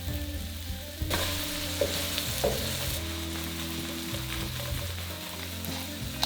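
Mushrooms sizzle in butter over high heat, a steady crackling fry that swells sharply as they hit the pan, with occasional stirring scrapes and no voices.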